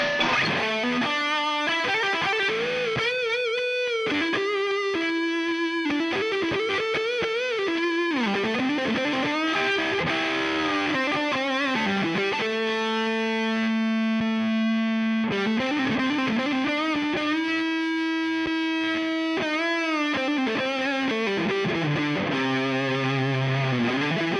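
An electric guitar plays melodic lines with one distortion stacked on another through an Orange Crush Pro 120h amplifier, giving a thick, saturated, sustained tone with bends and held notes, loud and continuous without any talking.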